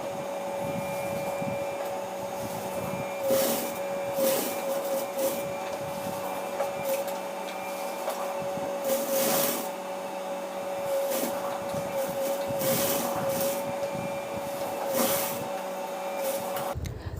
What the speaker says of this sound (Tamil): இப்போ வெல்க்ரோ நம்ம இங்கே வச்சு தைக்க போகிறோம்.